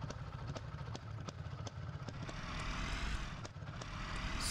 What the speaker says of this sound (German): Das Motorrad ist wieder da.